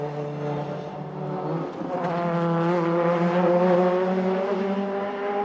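Race cars at the 1998 Le Mans 24-hour race howl along the Mulsanne straight, a loud, sustained high-revving engine drone whose pitch shifts as the cars pass, with no talk.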